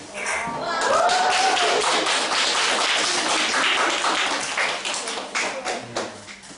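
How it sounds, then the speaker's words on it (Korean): Steady applause from a group of people, dense overlapping claps filling the room before tapering off, with a voice briefly audible underneath. "저는 여기까지입니다. 박수."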